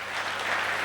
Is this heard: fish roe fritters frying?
no